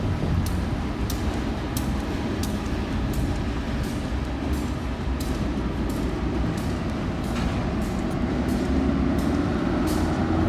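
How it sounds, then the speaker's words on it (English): A train rumbles steadily past at close range, a loud continuous roar of wheels and carriages with faint rattles throughout. "Here comes a train."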